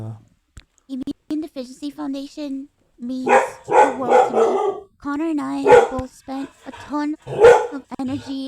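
A dog barks repeatedly in short sharp bursts, both between and over a person talking nearby.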